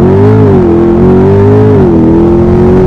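A 2021 Chevrolet C8 Corvette Convertible launches hard in sport mode with a little wheel spin, its engine roaring loud and close in one steady, rising full-throttle pull.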